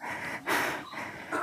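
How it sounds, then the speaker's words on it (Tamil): A person breathes heavily while out of breath, with loud gasping inhales and exhales close by and no speech. "மூச்சு வாங்குது"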